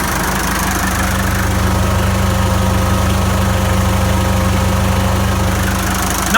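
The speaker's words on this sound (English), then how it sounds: "we have our smoky D239 engine running here" An International Harvester D239 diesel engine idles steadily close by, a smoky, even, low-pitched throb with a constant mechanical rattle and no changes in speed.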